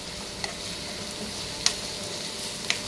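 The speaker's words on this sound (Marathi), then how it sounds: "यामध्ये मीठ टाकून थोडंसं हलवून घ्या" A spoon stirs salt into paneer cooking with chopped onions in a pan: a soft, steady sizzle with a few sharp scrapes and clicks, close and quiet.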